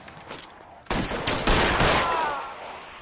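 Gunfire erupts in the L.A. Noire video game, a loud sustained burst of overlapping shots starting about a second in after quieter ambience and continuing steadily to the end.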